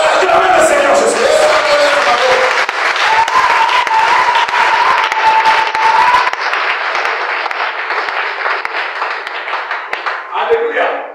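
A church congregation at a Pentecost Sunday service applauds and cheers steadily, with dense clapping mixed with voices and whoops. The sound is loud and close and eases slightly toward the end.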